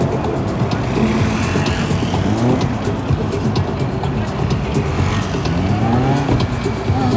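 A Suzuki GSF600 motorcycle sets off on a competition course, its engine droning loudly and continuously with rising and falling revs for the whole stretch, and no talking.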